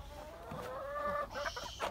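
Free-range village chickens clucking close by, a run of throaty, tonal clucks and squawks rising toward the end, with no talking.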